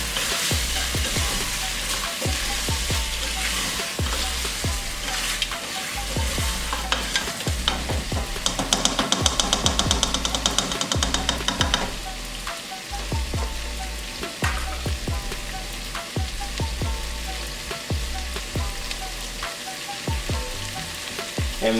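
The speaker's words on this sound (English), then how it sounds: "Stir it around one last time." Jamaican curry goat being stirred as it fries in a pot, a steady close sizzle with repeated scraping knocks of the spoon, briefly louder and hissier midway, with no talking.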